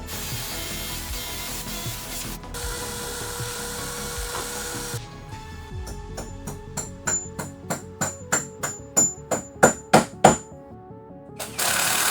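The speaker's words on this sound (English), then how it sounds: "We're just gonna drill through the holes we put in our bottom plate earlier." A power drill grinds steadily, then shifts into a series of sharp rhythmic hammering bursts that grow louder before stopping, close by, boring anchor holes through a wooden bottom plate into concrete.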